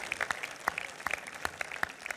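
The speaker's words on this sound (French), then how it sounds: "on peut encore applaudir pour ces deux nanosats" An audience at a Mars InSight launch event applauds the two departing nanosatellites, a busy patter of individual claps with distinct sharp hits standing out, moderately loud and steady, with no talking.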